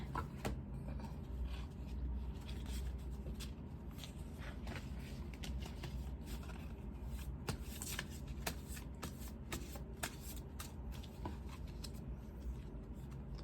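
Angel oracle cards being shuffled by hand in a quiet room, a soft, continuous riffling with light slaps and flicks repeating close to the listener.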